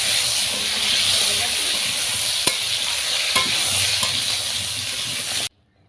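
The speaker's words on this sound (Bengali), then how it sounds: "কই মাছগুলো ভাজতে দিয়ে" Small koi fish fry in hot oil in a pan with a loud, constant hissing sizzle and a couple of sharp clicks, then the sound cuts off abruptly near the end.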